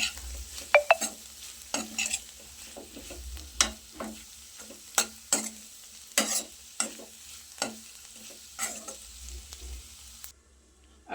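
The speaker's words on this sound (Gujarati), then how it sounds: "ફરી એકવાર બધું સરસ રીતે મિક્સ કરી લઈશું." Kankoda sabzi, spiny gourd with coriander-cumin powder, being stirred in a pan: a steady run of sharp scraping strokes over a soft sizzle, close and clear with no voices, ending abruptly.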